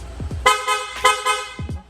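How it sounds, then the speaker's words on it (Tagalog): Aftermarket loud horn on a Honda Click V3 scooter blares in several sharp, loud blasts, with brief low thumps between the honks. "pa-activate naman ang loud horn."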